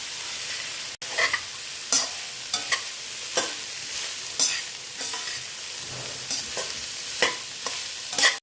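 Finely chopped carrot, beans and cabbage fry in a hot pan with a steady hiss, punctuated by repeated scraping stirs of a spatula at an irregular rhythm, close and moderately loud.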